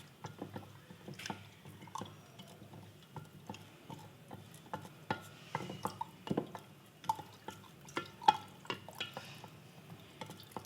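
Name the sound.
stirring beetroot wine mixture with a wooden spoon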